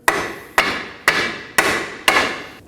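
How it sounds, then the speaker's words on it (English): A hammer strikes the front control arm of a 2016-2020 Kia Sorento five times in an even rhythm. Each sharp metallic tap rings briefly, close and loud, with no talk. "we're gonna grab a hammer and we're gonna tap around this area,"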